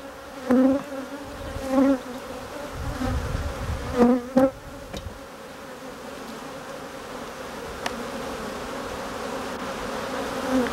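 Honeybees crawl over a brood frame full of bees about to hatch, a soft continuous buzz near at hand with several louder bursts as individual bees fly close past.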